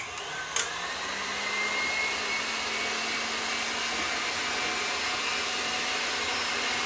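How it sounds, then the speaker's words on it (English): An electric mixer running on high whips egg whites for peanut butter roll candy, starting with a click and then holding a steady, even whirring hum throughout, close and alone. "I'm going to go ahead and turn this mixer up on high, and it's going to start beating these egg whites"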